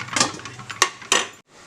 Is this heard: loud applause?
no